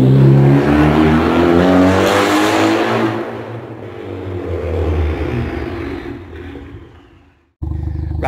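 A Ford Focus ST250 with a straight-through custom exhaust and a 3-inch Toyo Sports downpipe revs hard. Close and loud, it gives a long roaring rev that falls away to near silence, then a sudden blip catches again.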